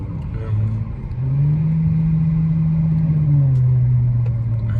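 Dodge Challenger with a 392 engine cruising through a city at night, a loud steady engine drone that rises in pitch as it pulls, then settles into a sustained hum heard from inside the car.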